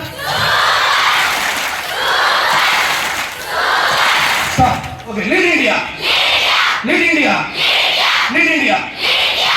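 A large political gathering erupts in cheering and shouting for a minister, waves of crowd noise that later break into rhythmic, chant-like group shouts with a loud voice over them.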